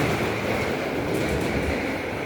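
A Seoul subway Line 1 train rumbles steadily nearby, a loud continuous roar of wheels and motors with faint rattling, no voices.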